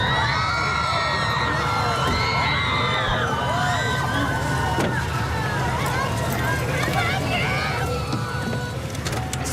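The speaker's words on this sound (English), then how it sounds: "this crowd, the biggest crowd we've seen so far, outside waiting for Johnny Depp, started yelling" A large crowd waiting outside a courthouse for Johnny Depp yells, whoops and cheers continuously, with shouts rising over a steady roar of many voices throughout.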